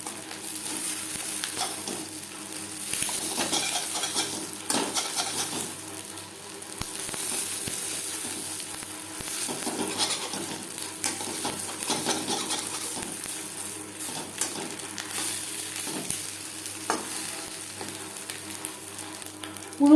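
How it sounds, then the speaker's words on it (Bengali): Pieces of boal fish roe frying in oil in a pan, a steady loud sizzle with crackling bursts and occasional spatula stirs and scrapes, continuous and close throughout. "বেশ ভালো করে ভেজে নেব, ভেতরে যাতে কাঁচা না থাকে।"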